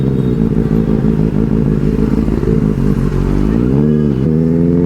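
A Benelli 600i superbike engine revs loudly and steadily close by, its deep throbbing exhaust note rising and falling through several throttle blips with no talk over it.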